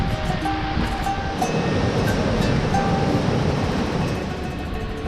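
A waterfall in the Ba'atara Gorge in Lebanon, heard as a steady, dense roar of rushing water, continuous and fairly loud without any voices.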